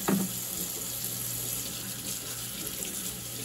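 Tap water runs steadily into a sink, rinsing a part of a Levoit LV600S humidifier, a soft continuous splash heard alone at low volume.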